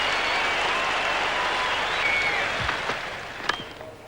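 A cricket crowd applauds a six with sustained, dense clapping and a faint roar, slowly tapering, with a few sharper claps near the end.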